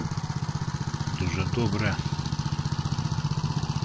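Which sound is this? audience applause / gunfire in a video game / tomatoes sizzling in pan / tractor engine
tractor engine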